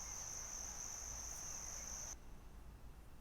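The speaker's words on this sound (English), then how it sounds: "And then an atmosphere sample for grasslands" A grassland atmosphere loop of chirping crickets used in a GarageBand Mobile future bass arrangement: a steady, shrill insect trill over soft ambient noise that cuts off abruptly partway through, leaving a quieter bed.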